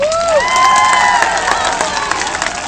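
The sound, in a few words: audience applause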